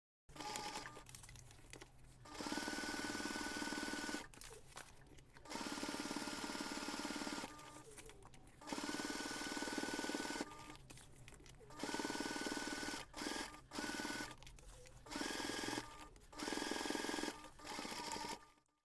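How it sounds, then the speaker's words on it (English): A sewing machine top stitches the gusset of a waterproof bike seat cover in several bursts of steady whirring, broken by short pauses and faint fabric crinkling between runs. "top stitch around the entire gusset, very close to this folded edge"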